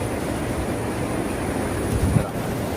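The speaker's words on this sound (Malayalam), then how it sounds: "നല്ല കാറ്റ് നല്ല തണുത്ത കാറ്റ്" A strong, cool wind blows near Athirappilly waterfalls in Kerala, a steady low rushing roar that buffets the microphone, with a brief louder gust near the end.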